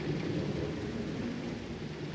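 Steady rain with a low thunder rumble in a Minecraft-style video game, a continuous dense wash of drops holding an even level throughout with no voices.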